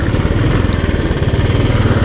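A loud, close Royal Enfield Classic 350 motorcycle engine running with a steady, rough low throb, with no voices.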